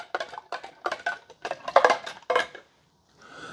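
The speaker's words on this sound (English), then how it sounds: "We got to stir it. That sugar needs to all dissolve." A spoon clinks against the sides of a cup while sugar is stirred into hot half and half, with repeated short scraping, tapping bursts and a brief pause near the end.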